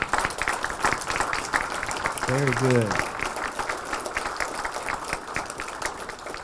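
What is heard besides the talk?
audience applause for students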